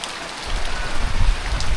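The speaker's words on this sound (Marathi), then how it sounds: "इकडे पाऊस लागतोय" Rain pours down steadily in a Konkan village during a two-day heavy downpour, a dense close hiss with pattering drops on surfaces, no voices.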